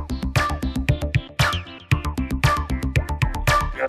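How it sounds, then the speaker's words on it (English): Kraftwerk's The Robots playing, a vocoder-processed robotic voice riding over a steady, punchy synth-pop beat with regular electronic pulses throughout. "In The Robots, they use a vocoder,"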